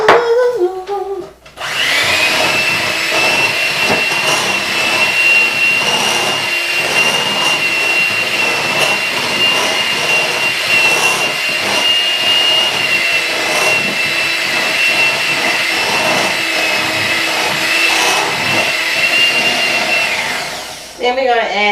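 Loud, steady whirring hum of an electric mixer beating egg-rich tea cake batter, starting abruptly after a short voice, running evenly for about twenty seconds, then winding down at the end.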